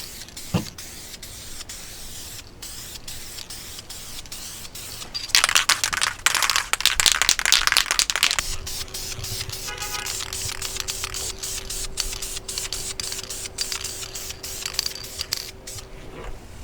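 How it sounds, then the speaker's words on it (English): A spray can lays a black coat onto the headliner of an F150 truck in a paint booth, with a hissing burst of several seconds in the middle, shorter sprays around it, and faint background noise. "we go ahead and start putting the first coat onto the headliner"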